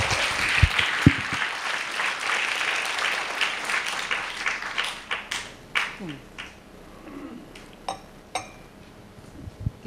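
Audience applause at a church talk with a missionary guest starts thick and loud, then thins over several seconds into scattered individual claps. A voice and faint clinks come through near the start.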